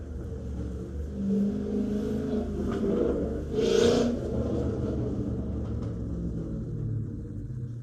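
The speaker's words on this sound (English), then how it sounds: "It sounds like a sports car, and it's not a sports car." A car engine rumbles nearby and revs up briefly, the roar swelling midway before settling back to a steady drone.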